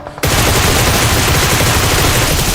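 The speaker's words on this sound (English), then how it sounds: "Yeah, there's definitely shots up there." Continuous loud gunfire from the PUBG Mobile video game bursts in after a brief quiet moment and keeps roaring densely, with no talk over it.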